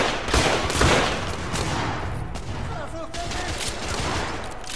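Dense gunfire from the video game The Order: 1886 rattles continuously, loud and close, in rapid overlapping volleys with faint talk underneath.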